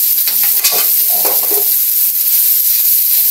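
Food is stir-fried in an old, well-used wok, with loud, steady sizzling throughout and a few scraping stirs of a utensil up close.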